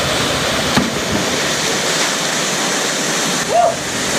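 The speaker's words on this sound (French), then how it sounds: "on a trouvé la cascade et c'est fou" Waterfall in Vietnam, a steady, dense roar of falling water that fills the scene without pause, close and loud, with a faint short voice near the end.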